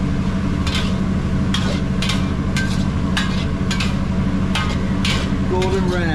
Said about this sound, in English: So in goes the basil, and then now one final little stir around